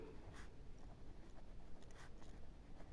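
Pen writing a math proof by hand on paper, faint scratchy strokes in short bursts, close up and quiet, with no voice.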